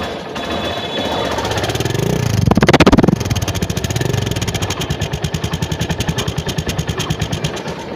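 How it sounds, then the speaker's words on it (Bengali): A second-hand motorcycle engine runs loud and close with a steady pulsing idle, rising briefly into a quick rev before dropping back to a rhythmic chug. "যারা অভিজ্ঞ মানুষ আছেন অলরেডি বুঝতে পারছেন বাইকের ইঞ্জিন কেমন আছে।"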